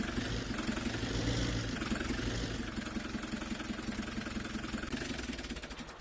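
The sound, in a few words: Fiat 100 horsepower tractor engine in a farming video game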